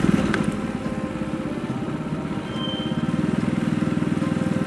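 A fat-tire drift trike's small engine held at full throttle, a loud, close, steady buzzing drone with a fast pulsing rhythm, running continuously without speech.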